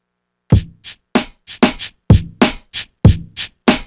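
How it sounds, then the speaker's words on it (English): A programmed drum beat on an MPC sampler plays alone, punchy kicks and crisp snare hits in a tight, evenly spaced quantized pattern with brief silences between hits. "So I have this drum line and it sounds like this."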